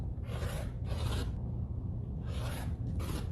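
Fabric on a quilt block being trimmed away from the seam line, a string-pieced foundation block, giving four dry rasping bursts close by, each about half a second, in two pairs separated by a short pause.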